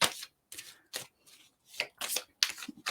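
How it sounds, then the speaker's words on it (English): A deck of cards being shuffled by hand during a reading session, a series of short crisp riffling and tapping bursts separated by brief pauses, quiet and close. "I'll just give the cards a little shuffle."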